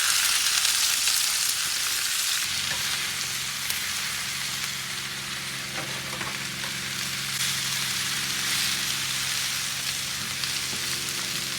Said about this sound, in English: Still doing the saute process of the peppers and onions